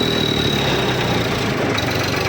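A 10-35 tractor engine running steadily nearby, a loud, even mechanical drone with fast rhythmic pulsing and no talk.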